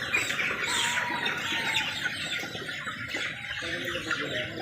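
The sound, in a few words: chickens clucking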